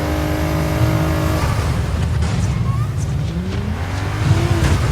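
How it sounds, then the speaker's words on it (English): Battle cars rev hard and squeal their tires, with engine roars rising and falling, whining pitch sweeps and screeching skids in a loud, busy mix. "We got some battle cars going on over here."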